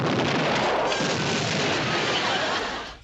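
Cannon fire from the 1960s TV western comedy F Troop, a loud, dense boom whose rumble and crackle sustain for about three seconds before quickly dying away, with no voices.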